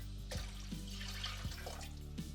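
White vinegar is poured into a saucepan for pickle brine. Liquid splashes and trickles steadily in a kitchen, with a few sharper clinks and drips throughout.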